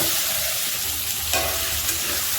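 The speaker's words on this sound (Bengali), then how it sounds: "হলুদ লবণ দিয়ে দিলাম, একটু পেঁয়াজ বাটা দিলাম, দিয়ে নাড়াচাড়া করে নিলাম।" Chopped onion, onion paste, turmeric and salt frying in oil while being stirred, a steady close hiss of sizzling with a couple of brief scraping stir strokes, no talking.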